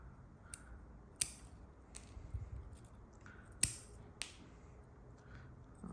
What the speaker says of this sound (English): so I'm gonna cut